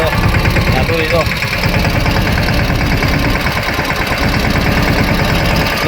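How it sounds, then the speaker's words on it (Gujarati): A tractor engine runs loud and close throughout while driving through a muddy field, a continuous chugging rumble with rough vibration. "હવે જાય છે ટ્રેક્ટર લઈને"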